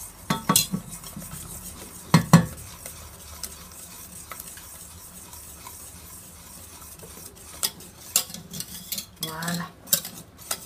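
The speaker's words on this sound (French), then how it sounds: "Ça colle un peu, je vais prendre un fouet, ça sera plus pratique." A whisk stirs salted butter caramel in a pan, giving intermittent metallic clinks and scraping strokes in short bursts, with quieter stretches between them and no talking.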